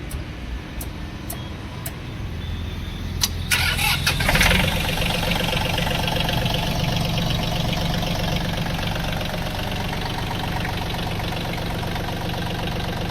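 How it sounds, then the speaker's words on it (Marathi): A VST Shakti 932 tractor engine cranks with a few sharp clicks, catches and settles into a steady, close, rumbling idle that continues loud and even to the end. "मी आता स्टार्ट करून दाखवतो तुम्हाला ट्रॅक्टर"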